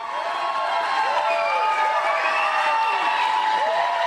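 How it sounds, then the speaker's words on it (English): A big, loud crowd cheers and shouts continuously, a dense roar of voices and whoops with no break across the few seconds. "I don't think he can hear us because the crowd's so loud"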